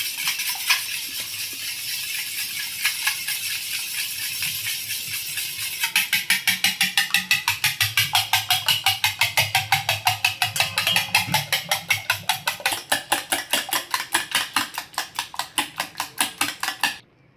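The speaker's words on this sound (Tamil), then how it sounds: "முட்டையை நல்லா பீட் பண்ணிக்கலாம்" Rapid, rhythmic clinking of a utensil beating eggs in a bowl for an omelette, speeding up into a fast, steady metallic tapping that runs for many seconds.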